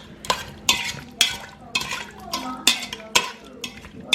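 A utensil stirs a clove's worth of minced garlic in a pan in regular scraping strokes about every half second, close and crisp, with a light sizzle underneath and no talking.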